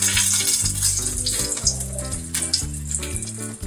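Bay leaf and a few green chillies sizzle in hot oil for a tempering, a steady close crackle and hiss running continuously with a watery, bubbling texture and no voices.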